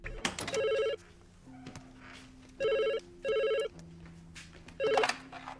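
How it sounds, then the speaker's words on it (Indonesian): A telephone ringing: four loud, even electronic ring bursts about half a second each, separated by short gaps over a quiet room background. "Tan menerima telepon dari Jin"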